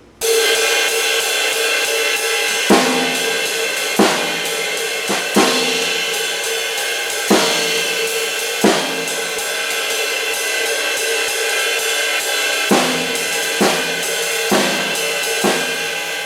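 A steady ride cymbal pattern in a swinging jazz feel, punctuated by sharp snare drum accents on scattered beats, played alone and up close.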